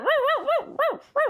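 A man imitates a dog with his voice, giving four loud, close, howl-like barks in a quick uneven series, with no other talk over them.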